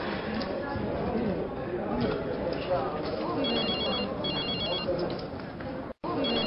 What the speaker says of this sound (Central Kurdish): تەلەفۆنە